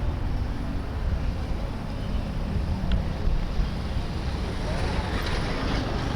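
Steady wind blowing on a hot day, a constant rushing buffet against the microphone with no pauses, close and fairly loud, and no voices over it.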